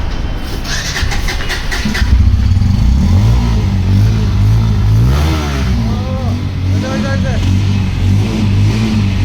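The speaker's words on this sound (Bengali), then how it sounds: "বাইক ইঞ্জিনের সাউন্ডটা শোনান তো" A brand-new Bajaj Pulsar N160 motorcycle engine runs and revs close by, its pitch sweeping up and down in several bursts over a steady idle, with people talking over it.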